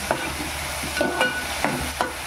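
Ginger-garlic paste cooking in a pan for a fish curry, with several distinct scrapes of a spatula stirring over a low, constant sizzle, close up and without talk.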